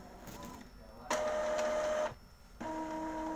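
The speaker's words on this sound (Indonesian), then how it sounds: "Oke, ini hasil print nozzle" An Epson L1110 inkjet printer runs a nozzle check print, its mechanism whirring in loud bursts with short pauses between passes, close and alone with no talk.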